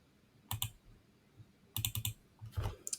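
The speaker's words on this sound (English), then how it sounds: "let me type in this value" Computer keyboard keys tapped in three short bursts of quick clicks, close and fairly quiet, separated by brief pauses over a faint room hiss.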